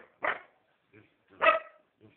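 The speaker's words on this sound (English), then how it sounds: "No, Bella, don't bark like that." A dog barks twice in sharp bursts, fairly close, with a couple of softer yips in between.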